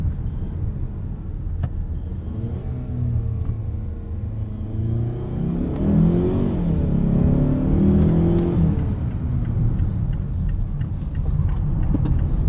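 A 2019 Mazda CX-5 Signature Turbo crossover on 19-inch wheels is driven hard through corners, giving a steady low engine rumble and road noise that swells as it accelerates out of the bends, with no talk.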